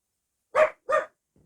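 Two sharp barks from Quiggers the dog, close and loud, spaced about a third of a second apart, then quiet.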